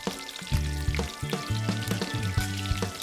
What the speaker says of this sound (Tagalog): Una munang magpapainit ng mantika, sunod na igigisa ang sibuyas at bawang.